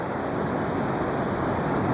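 Fast-flowing water at Niagara Falls makes a dense, steady roar with no break, loud and unbroken throughout.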